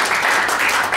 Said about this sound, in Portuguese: Vamos dar uma salva de palmas para o João